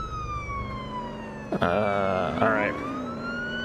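Police and ambulance sirens wail in the Police Simulator: Patrol Officer video game, a steady high wail joined midway by a second loud, rising and warbling siren, with a brief spoken word.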